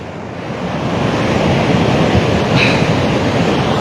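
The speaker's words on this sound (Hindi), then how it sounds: "पांडवशिला के दूसरी तरफ ऊपर की तरफ से बुंगरेल चौक की तरफ से भारी पानी इसमें यहाँ पर आ रहा है।" Heavy water rushes down a hillside drainage channel at Pandavshila in Seraj, flowing from the Bungrel Chowk side. A loud, steady roar of churning water fills the whole stretch with no voices.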